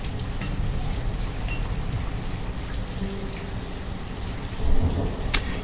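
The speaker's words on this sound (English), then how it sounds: "as it starts pouring down with rain" Heavy pouring rain hisses steadily in the Banished video game, with low rolling thunder underneath and a louder rumble swelling near the end.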